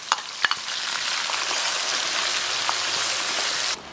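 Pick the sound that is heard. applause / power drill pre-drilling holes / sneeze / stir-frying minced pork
stir-frying minced pork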